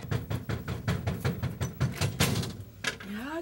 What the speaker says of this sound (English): I almost knocked your door down.